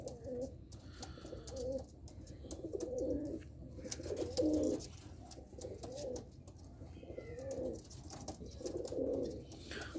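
A breeding pair of pigeons coos in soft, low, repeated phrases, moderately near, against a steady background murmur, with no one talking.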